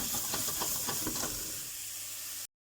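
Vegetables for bœuf bourguignon sweating in a pot over medium heat, a soft steady sizzle and hiss with a few stirring knocks early on, fading quieter before cutting off.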